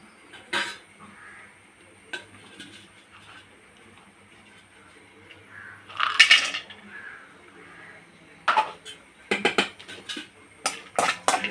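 Nuts tipped into heated ghee in a pan while aval laddu is being made: scattered clinks and rattles against the metal, with sharper bursts around the middle and a cluster of clatters toward the end. No one speaks.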